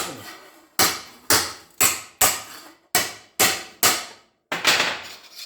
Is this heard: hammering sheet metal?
yes